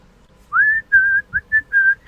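A person whistles a song in a few clear, sustained phrases with short gaps between them, close to the listener and alone over a faint low background.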